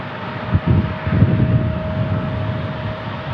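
An airliner in a special 100-year livery at San Diego International Airport, a steady engine roar with a constant tone, a few low rumbling bumps early on, no talking.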